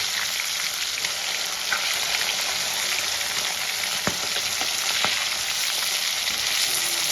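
Rohu fish pieces fry in hot oil in a pan, giving a loud, dense, continuous sizzle with a few faint clicks of a utensil, close and steady with no talking.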